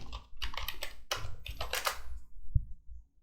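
Fast, close clatter of a computer keyboard, with bursts of key presses in quick runs broken by short pauses and a firmer tap near the end, in a quiet room.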